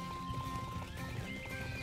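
Horse neighing and clip-clop of hooves from the Bibi & Tina: New Adventures with Horses video game, a short whinny over steady hoofbeats and game music, fairly loud and continuous.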